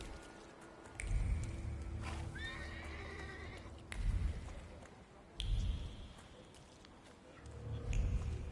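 A horse whinnies loudly in the video game The Thaumaturge while hooves clop in slow bursts, with a few sharp thuds and squishy steps in between.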